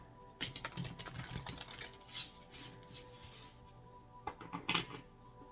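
Tarot cards riffle and slap together in quick, crisp bursts, close up, with short pauses between rounds of shuffling.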